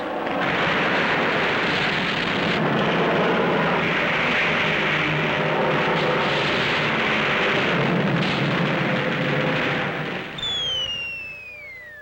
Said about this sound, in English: watch the aerial combat high above as though it were a sporting event.